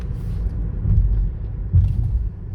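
Low engine rumble and road noise inside a car moving through heavy traffic, steady and fairly quiet with slight swells, no talking.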